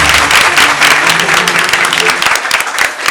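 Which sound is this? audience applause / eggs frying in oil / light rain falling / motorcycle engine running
audience applause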